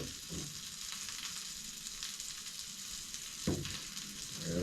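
Seasoned fish catch fries in a pan with a continuous close sizzle, broken by a few louder spatters and faint scraping thumps toward the end, with no speech.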